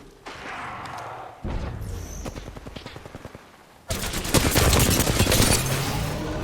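Video game gunfire crackles in rapid automatic bursts, with dense overlapping shots that grow louder and more continuous in the second half, loud and close.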